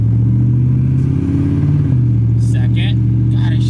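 Car engine droning loudly and steadily at close range, its pitch dropping at a firm gear change partway through, with a vehicle fitted with a shift kit; faint voice sounds later over the engine.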